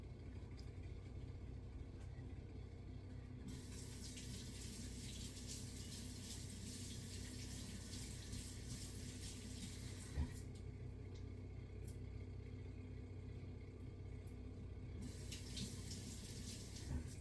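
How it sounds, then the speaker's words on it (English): A kitchen tap runs water to rinse a straight-razor sharpening stone, a steady hiss that swells louder in two bursts over a low idling hum, with a faint knock partway through. "I need to rinse off the stone again"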